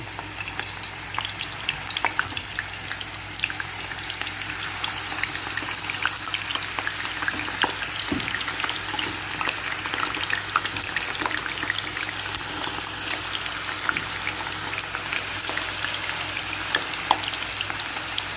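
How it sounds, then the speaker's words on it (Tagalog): Sliced round potato pieces fry in hot oil, giving a steady, dense sizzle with scattered crackles and pops that stays even and fairly close throughout, with no talking. "Ngayon ang una kong prituhin is yung patatas"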